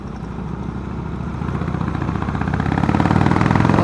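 A Harley-Davidson Sportster 1200cc engine pulling away, a low rhythmic rumble that grows louder and throatier as the revs climb, close and unaccompanied.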